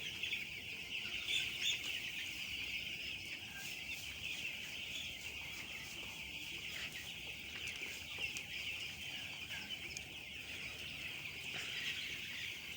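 Broiler chicks in a poultry shed give constant shrill peeping and soft clucking from many birds at once, a faint, busy chorus with no talk.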